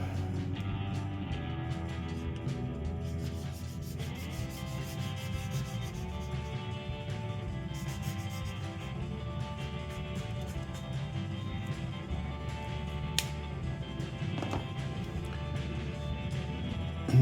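Gray coloring rubbed by hand onto a sanded wooden Jungle Cruise sign from a self-build kit makes a steady, soft scrubbing and rasping, close and continuous, with no voices.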